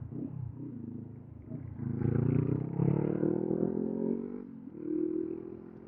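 Honda CB500X motorcycle fitted with an Akrapovic M1 exhaust revving in third gear toward 6,000 RPM, a rising throaty engine drone that swells, dips and climbs again, heard from nearby with no voices.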